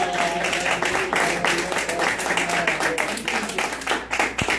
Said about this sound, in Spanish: ¿Cuánto le damos un aplauso al que vive y reina?